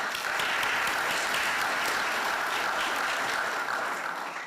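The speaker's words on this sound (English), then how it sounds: "let's give another big round of applause to our student scholarship recipient" Sustained audience applause at a diversity awards ceremony honoring a student scholarship recipient, a dense, loud, even roar of many hands clapping that holds steady throughout with no talk.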